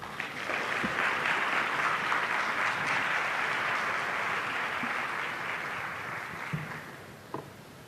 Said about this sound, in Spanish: Le damos la bienvenida con un caluroso aplauso.